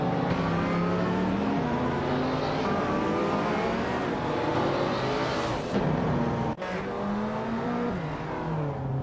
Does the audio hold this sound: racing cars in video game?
yes